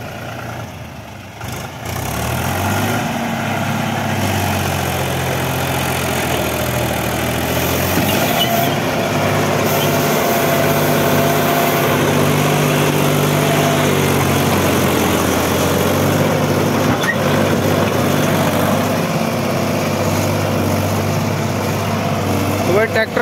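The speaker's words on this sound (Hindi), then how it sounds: "तो भाई महिंद्रा 265 DI है और उन ट्रैक्टरों के सामने सबसे छोटा ट्रैक्टर है" A Mahindra 265 DI tractor, a small model working in heavy soil, runs with a loud, steady engine drone that holds throughout, close by, with a voice speaking over it at times.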